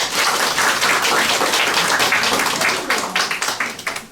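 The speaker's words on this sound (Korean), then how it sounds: "여러분 뜨거운 박수 한번 부탁드리겠습니다" An audience at a residents' meeting bursts into warm clapping: dense applause that holds steady, then thins into scattered individual claps as it dies away.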